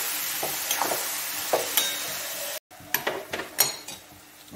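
Ginger garlic paste and turmeric sautéing in a pan: loud, steady sizzling with a spoon scraping and stirring, cut by a brief moment of silence before scrapes and clacks resume up close.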